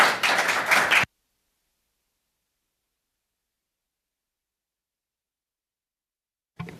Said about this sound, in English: maybe a round of applause for our clerk for all her good work